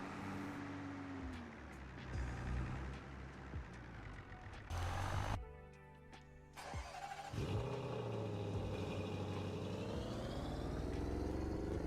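A Ford Bronco engine in Farming Simulator 22 starts and revs through a steady mid-level rumble, with a brief near-silent gap midway before the engine note returns and holds.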